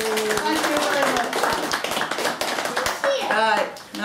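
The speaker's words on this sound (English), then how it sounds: "I think we need a big round of applause please for our volunteers." A group at a museum claps for volunteers, a round of applause with distinct hand claps, close and fairly loud, mixed with voices talking over it.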